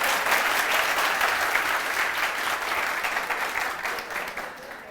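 An audience claps at a UPSC Hindi-medium preparation talk, giving loud, continuous applause that holds steady for several seconds before easing slightly at the end.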